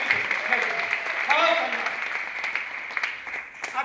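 An audience at a seminar in Bhilwara claps for the toppers. The applause runs under voices and some loud vocal sounds, holding fairly steady before easing toward the end.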